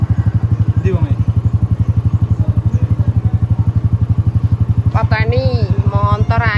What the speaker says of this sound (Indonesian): Pateni motor anyar pamer lho guys